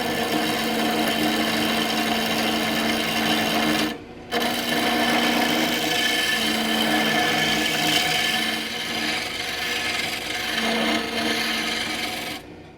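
A wood lathe spins while a gouge cuts a tenon down toward one-inch diameter, giving a loud, steady rasping, whirring hum that drops out briefly partway through, then carries on alone.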